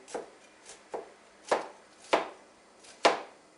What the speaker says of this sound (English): I'm going to chop the onions